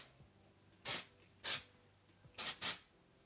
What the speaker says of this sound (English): Actually, I'm going to use some dry shampoo at my roots. So this is the dry shampoo from Launch.